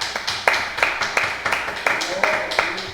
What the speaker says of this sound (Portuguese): E uma salva de palmas para Jesus